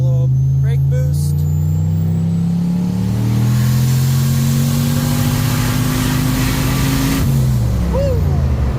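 A Chevrolet Caprice Landau racecar engine pulls hard in second gear, rising steadily in pitch over several seconds, then shifts and settles. It stays loud and close, with brief voices at the start and end.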